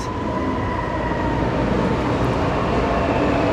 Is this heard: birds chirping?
no